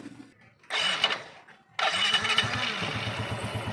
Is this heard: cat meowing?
no